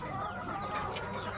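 Leghorn hens and roosters cluck in a small backyard flock, a soft, busy murmur of overlapping calls held at a low, steady level.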